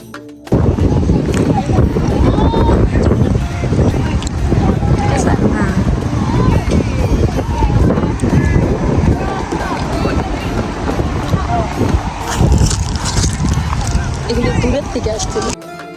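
Strong gusting wind roars into the microphone on the clifftop at Seven Sisters near Birling Gap, Eastbourne, a loud continuous buffeting rumble that nearly drowns out voices talking close by.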